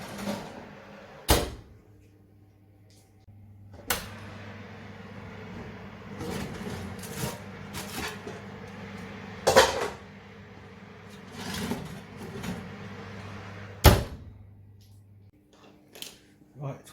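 A home oven door opening and shutting as a loaf of bread in a lidded pot goes in, with sharp clunks at intervals, a low oven hum, and a person talking throughout.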